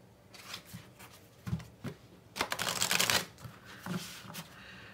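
Tarot cards being shuffled by hand, giving soft intermittent riffles and slides with a louder burst of rapid flicking in the middle, close and fairly quiet.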